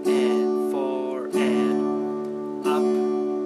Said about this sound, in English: I'm only going to hit the strings on the way up.